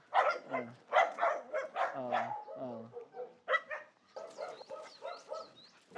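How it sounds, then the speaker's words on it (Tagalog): Forest dogs in an enclosure, loosened onto a bigger ground, bark and yip in quick irregular bursts, close and fairly loud. Voices talk around the barking. "Ayan ayan, mga asong gubat."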